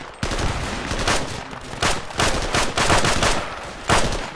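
Machine gun fire in the WW2 game Project Reality, loud and close, with repeated bursts of rapid shots and heavier blasts spread across the whole stretch, no voices over it.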